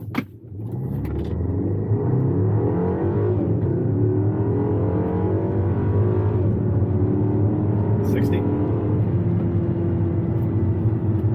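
BMW X1 accelerating hard from a standstill to 60 mph: the engine climbs through gears with rising revs and shifts, a loud steady roar heard from inside the cabin.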